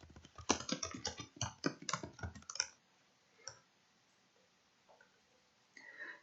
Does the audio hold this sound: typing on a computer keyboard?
yes